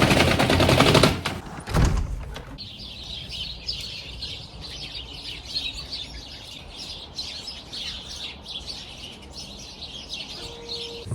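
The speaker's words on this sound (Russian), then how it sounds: "у нас просто поют птицы" Birds chirp and sing steadily in a quiet suburb of Biełany Wrocławskie near Wrocław, Poland, after a couple of seconds of louder thumps and rustling; the twittering continues at moderate distance with no talking.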